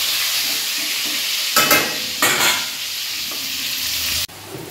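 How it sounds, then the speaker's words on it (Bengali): Potatoes fry in hot mustard oil with a loud, steady sizzle close by, swelling in two bursts as they are stirred, then cutting back sharply near the end. "এবার আলুগুলোকে ফ্রাই করে নেব, লাল লাল করে ভেজে নেব।"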